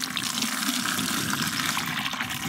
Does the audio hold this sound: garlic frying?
no